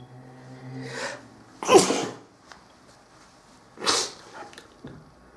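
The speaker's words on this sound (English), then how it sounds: "I'm gonna sneeze again." A person sneezes loudly twice at close range, each sneeze a sharp burst of breath after a short indrawn gasp, separated by a couple of seconds of quiet breathing.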